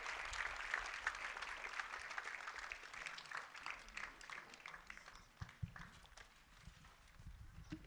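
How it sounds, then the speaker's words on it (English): Audience applause at a university graduation ceremony, a dense, steady wash of many hands clapping that runs the whole time, with a few heavier knocks and footfall-like thuds toward the end. "A round of applause all the way until she gets here."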